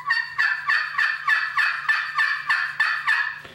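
A raspy hen turkey yelp drawn from a custom friction call with an Asagi Orange Striker, about a dozen evenly spaced notes in a steady rhythm, loud and close with no talking.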